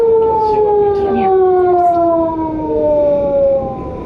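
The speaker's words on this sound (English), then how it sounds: "That is a loud siren." A loud siren wails steadily in a murder-mystery video game, its tone sliding slowly downward and holding for the whole stretch with no talk over it.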